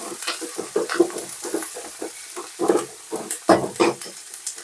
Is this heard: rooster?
no